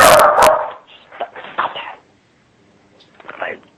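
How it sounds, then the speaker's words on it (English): A blind dog barks loudly and close by in a sharp burst at the start, followed by softer yelps and whimpering sounds, with a voice heard in the clip. "My blind dog."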